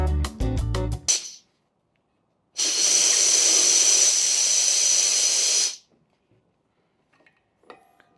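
Compressed CO2 hisses steadily for about three seconds through a vent knob on a Power Filler rig while Power Shot bottles are filled from a larger mother bottle, loud and close, after a burst of clicking and then a short pause.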